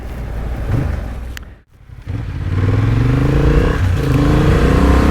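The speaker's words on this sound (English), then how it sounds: "the sound of this exhaust is what gives you the impression that you're going faster than you are" Honda Hornet CB750 motorcycle engine and exhaust while riding on a rough road, a loud, steady drone that dips briefly, then swells back as the throttle is rolled on.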